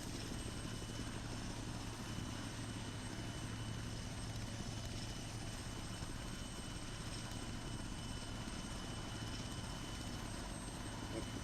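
A UH-1Y military helicopter taxiing on an air station runway gives a steady, continuous rotor and turbine drone with a constant hum, unbroken and fairly distant throughout, with no voices.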